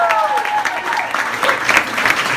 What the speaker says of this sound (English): you guys are supposed to clap for that.